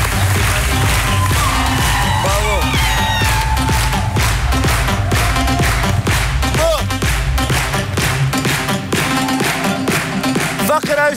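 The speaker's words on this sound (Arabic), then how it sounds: "صفقوا عليهم الكل." A studio audience at a Tunisian variety show claps steadily, with dense rapid applause and some cheering over music, loud and continuous throughout.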